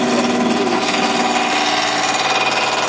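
A turning tool cuts into spinning wood on a lathe, a steady, dense, grinding roar with constant loudness that runs through the whole stretch and has no talk over it.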